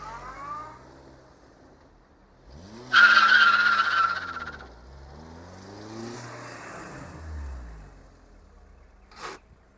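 A VW Lupo revs hard while one wheel spins, giving a loud burst of tyre squeal and screeching engine, then lower revving that rises and falls before fading.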